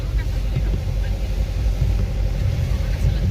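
A car drives along a road in the hills on the way to Sikkim, a steady low engine and road rumble heard from inside the vehicle with no gaps.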